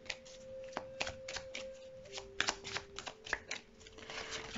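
Tarot cards being shuffled by hand, a soft close run of papery riffles and taps, fairly quiet, with a faint steady hum underneath.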